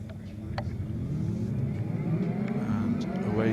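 BMW Mini rallycross cars at a BTRDA Clubmans Rallycross Championship race start, engines revving loudly together as the pack accelerates away, a steady dense roar building throughout.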